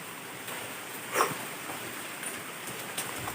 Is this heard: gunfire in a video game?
no